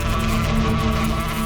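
A dense, continuous buzz of bees swarming around a beehive hums steadily and fairly loud throughout, without breaks or speech.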